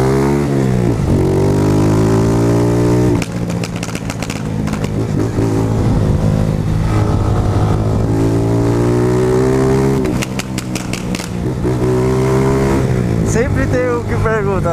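A BMW S1000RR superbike fitted with a spark plug in the exhaust revs loudly and steadily, its note rising and falling through several throttle blips, while voices talk over it.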